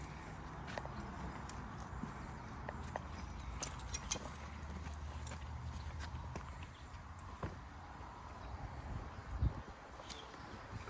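Horse hooves clip-clop steadily on the ground over a low, rumbling background, with occasional rustling nearby.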